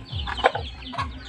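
Backyard chickens cluck close by in a quick burst of a few short, throaty calls over about a second.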